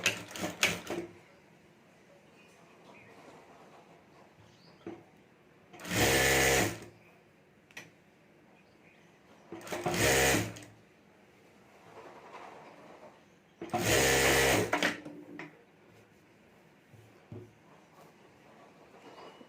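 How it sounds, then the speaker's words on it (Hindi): A sewing machine stitches old sari lace borders together in three short loud bursts spaced a few seconds apart, with quiet fabric handling between them. "यहाँ से हमें सिलाई करके दोनों बॉर्डर जोड़ देनी है"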